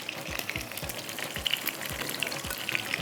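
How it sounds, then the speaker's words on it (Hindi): Half-cooked eggplant slices fry in a pan with a steady, dense sizzle and crackle, punctuated by a few soft low knocks as pieces shift, close up and with no talking. "ये हो गया हमारे बैंगन थोड़े से फ्राई, हाफ डन हो गए हैं।"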